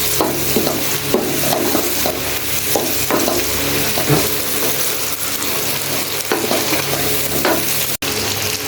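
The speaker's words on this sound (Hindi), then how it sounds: "इसको भी भून लेंगे अच्छी तरह 1 से 2 मिनट, बहुत ज़्यादा नहीं इसको भूनना।" Steady sizzling of spices frying in a pan, with intermittent scraping and stirring sounds close by, no voices.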